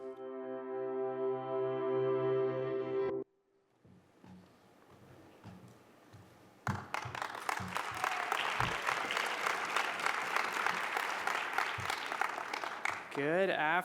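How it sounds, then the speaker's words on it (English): An audience at an SXSW keynote bursts into applause and cheers, the clapping dense and loud at first, then breaking off, before a speaker begins talking over scattered residual clapping. "I'm glad the cheering has remained."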